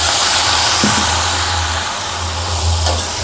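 Brinjal (eggplant) frying in a pan with water sprinkled over it gives a loud, steady hissing sizzle that fills the whole few seconds, with no talking.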